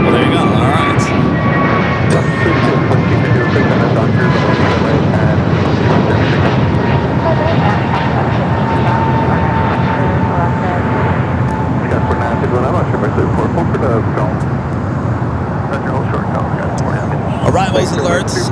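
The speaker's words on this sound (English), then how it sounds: "Aircraft approaching LAX includes Sky West, Delta, Alaska, and a couple other Sky West." A fixed-wing airliner's engines roar steadily and loudly on approach to LAX airport, a continuous broad drone for the whole stretch with a faint voice underneath.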